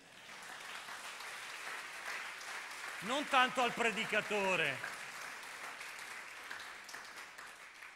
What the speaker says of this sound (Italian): Qui ci voleva un bel applauso.